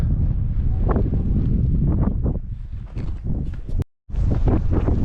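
Strong wind on a mountain ridge near Chamonix buffets the microphone in loud, rough gusts, roaring steadily with a brief dropout before resuming.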